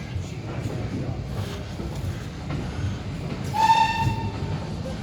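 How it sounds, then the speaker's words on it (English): Steady rumbling clatter inside an old train carriage on a steam railway, with a brief horn or whistle tone sounding partway through over the rolling noise. "we're now on the train, guys, and these are the old carriages."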